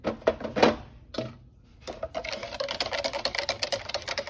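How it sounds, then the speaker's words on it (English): Yeast is whisked into warm milk at about 95 degrees for babka dough. A close whisk taps and scrapes in quick rhythmic strokes against the bowl, stops briefly, then continues in a fast, even clatter. "So I'm going to add the yeast, whisk it in"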